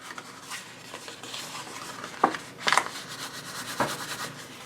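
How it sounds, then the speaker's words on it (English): A bone folder burnishes score lines on card stock, producing soft scraping and rubbing strokes with a few sharper swipes, close and quiet. "I'm just going to take a bone folder and burnish all of those score lines"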